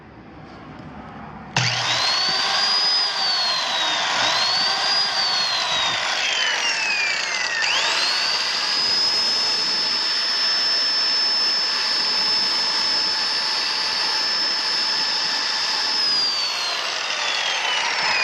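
A 1979 Rockwell No 314 Type 1 trim saw switches on and its motor runs with a steady, loud high-pitched whine. The pitch dips and rises a few times before holding constant, heard close with no talk.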